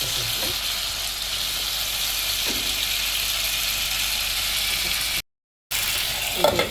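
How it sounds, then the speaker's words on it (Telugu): Tomatoes with salt simmer and sizzle in a covered pan, a steady hissing fry that runs continuously and close, briefly cut out near the end before resuming. "ఈ టమాటోస్ మనం కొంచెం సాల్ట్ యాడ్ చేసుకోవాలి. తొందరగా మగ్గిపోతాయి అన్నమాట. మూత పెట్టేసుకొని మగ్గిస్తాం."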